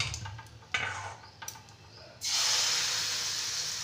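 Semolina and flour batter hits melted butter in a hot pan and bursts into a loud, steady sizzle after a few quiet clinks, continuing close and unbroken.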